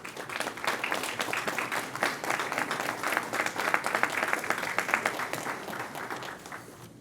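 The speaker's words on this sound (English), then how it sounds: "give them a round of applause" An audience of family and supporters claps steadily at a county police academy graduation ceremony, a dense, even wash of applause that holds for several seconds and eases slightly at the end.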